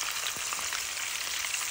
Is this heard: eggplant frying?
yes